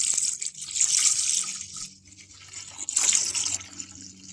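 Running water from a tap pours into a soapy bath, two louder bursts of splashing flow with a quieter stretch between, fairly close and without any talk.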